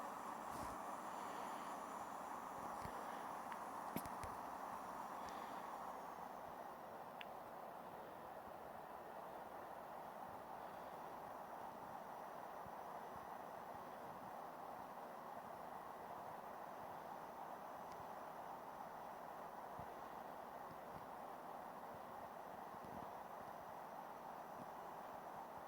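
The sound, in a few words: Boeing 767 taking off from Honolulu in Infinite Flight game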